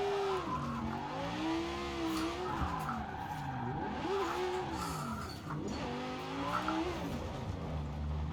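An Italdesign Zerouno drifts in Forza Horizon 4, its engine revving in long rising and falling sweeps over a continuous tire squeal, steady and close for several seconds with no voices.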